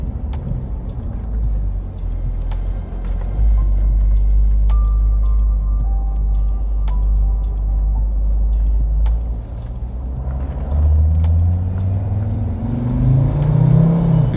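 A Mercedes-Benz ML W163 SUV with a sequential gearbox idles with a deep rumble, then its engine is revved up and held, the low roar climbing in pitch toward the end.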